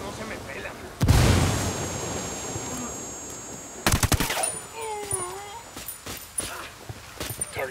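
A frag grenade blast followed by bursts of gunfire in Ghost Recon Wildlands, a loud broadband boom near one second, a second heavy blast cluster near four seconds, then scattered shots and chirping effects with voices talking.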